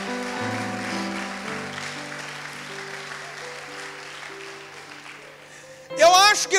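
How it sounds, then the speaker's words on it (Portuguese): A church congregation applauds in praise of Jesus, a steady wash of clapping beneath sustained keyboard chords that fades gradually, followed by a louder burst of voice near the end. "pode aplaudir a Jesus"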